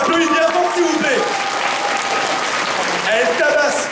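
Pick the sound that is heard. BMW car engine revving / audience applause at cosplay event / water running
audience applause at cosplay event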